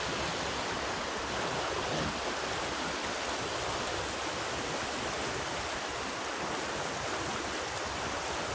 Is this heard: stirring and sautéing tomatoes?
no